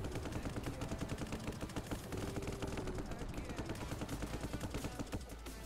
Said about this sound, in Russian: хорошо изрешетили, попали основными пушками, но Титану без разницы